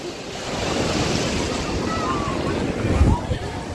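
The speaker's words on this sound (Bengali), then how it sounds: "ওই ঢেউটা আসছে দেখ" Ocean waves wash and break on the shore at Puri in a steady roar, wind buffeting the microphone, with a louder surge near the end.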